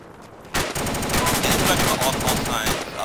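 Rapid bursts of automatic gunfire in a military shooter game, loud and continuous after a short quiet start, with dense overlapping shots and voices faintly beneath.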